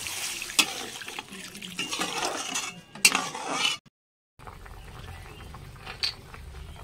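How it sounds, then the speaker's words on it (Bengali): Water pours into a pan of cooked-down spice paste for a fish-head and cabbage curry, a rushing, splashing gush lasting several seconds with a clink of utensils before stopping, followed by a quieter bubbling simmer. "এবার জল দিয়ে দেবো।"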